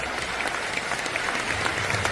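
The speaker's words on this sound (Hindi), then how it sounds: "एक बार तालियां बजा सकते हैं इन विजेता के लिए यहां से?" Steady applause from an event audience cheering winners, a dense continuous wash of many hands clapping throughout with faint crowd murmur beneath.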